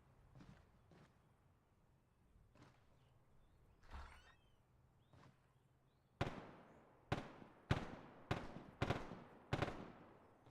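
Distant gunshots in the military video game Arma 3: a few scattered faint cracks, then a louder run of six sharp shots roughly half a second to a second apart, with no talk.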